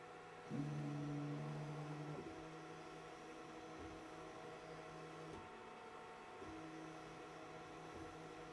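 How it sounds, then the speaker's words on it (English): A BQ Hurakan bed-slinger 3D printer running at high acceleration gives off loud, steady stepper-motor tones that shift pitch between moves, over a constant fan hum. "Come on, little printer, you can do 55k."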